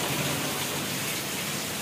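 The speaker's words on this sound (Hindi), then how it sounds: "बारिश कितनी जोर से हो रही है, भयंकर वाली बारिश हो रही है और सब दूर पानी ही पानी हो गया है" Heavy rain pouring steadily in a thunderstorm, a dense continuous hiss of downpour close by, with no distinct thunderclap audible.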